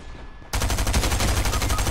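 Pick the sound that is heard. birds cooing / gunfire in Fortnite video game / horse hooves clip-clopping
gunfire in Fortnite video game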